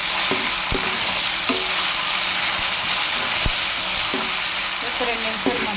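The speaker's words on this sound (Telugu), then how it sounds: "ఇప్పుడు దీంట్లో కొంచెం అల్లం వెల్లుల్లి పేస్ట్ అనేది వేసేసుకుందాం" Ginger garlic paste fries with softened onions in a pan, giving a strong, continuous sizzle broken by scraping stirs and sharp clinks of a spoon against the pan. No one speaks.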